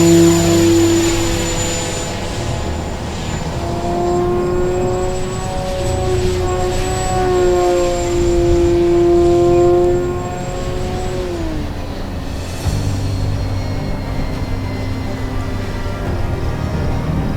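An E-flite Timber X 1.2 m electric RC plane whines overhead on its maiden flight, the motor pitch rising and falling steadily as it passes, fairly loud and alone with no voices.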